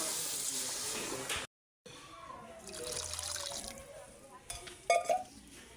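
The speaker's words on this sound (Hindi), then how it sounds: "अब मैं डालने लगी इसमें थोड़ा सा पानी क्योंकि ये अच्छी तरह गल जाएगी।" Water is poured into a pan of roasting lentils (dal), giving a quiet trickle and soft sizzle, briefly cut off, then resuming with a few small splashes near the end.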